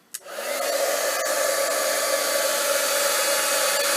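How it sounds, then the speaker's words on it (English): A heat tool starts with a click and then blows a steady, loud whooshing roar, drying puff paint on a handmade country-home greeting card, running alone without talk. "And then I'm going to bring in my heat tool."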